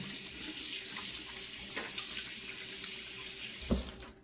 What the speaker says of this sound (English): Let me rinse my hands here.